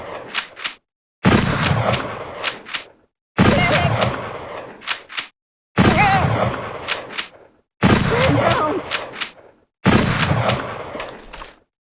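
Shooting-range gunfire in the Kick The Buddy game, loud repeated bursts of rapid shots in roughly two-second blocks separated by short silences, with sharp single reports between them.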